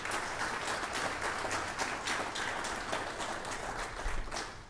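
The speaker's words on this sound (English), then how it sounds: "So let's give a round of applause for that accomplishment." An audience at a Baylor business ceremony claps steadily after a building earns LEED Gold certification, a quiet, even patter of applause heard from a distance.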